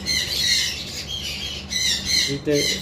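A red-headed lovebird squawks in a series of sharp, harsh calls in short bursts, close and fairly loud, with brief gaps between them.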